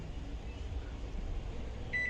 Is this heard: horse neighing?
no